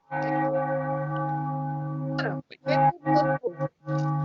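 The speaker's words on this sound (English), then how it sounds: "the church bells separate them" Church bells in a Spider-Man Alien Costume Saga story ring with a long sustained resonant toll, followed by several shorter, choppy strikes in quick succession.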